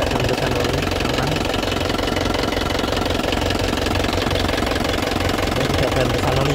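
Engine of a black 2017 LS Turbo car idling, a steady close rattling hum with even knocking texture that holds without change.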